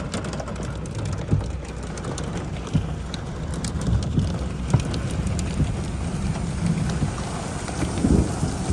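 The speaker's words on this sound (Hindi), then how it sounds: "ये आप देखें मक्का मुकर्रमा में बारिश हो रही है, बेहतरीन बारिश हो रही है" Heavy rain pours steadily in Makkah near Muzdalifah during a storm with falling hail, a constant dense hiss with occasional low thunder rumbles and sharp impacts throughout.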